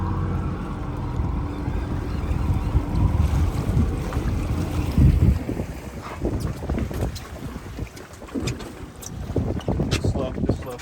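A charter fishing boat chasing bluefin tuna at sea, its engine rumbling low and steady under heavy wind buffeting and splashing water, with voices talking over it.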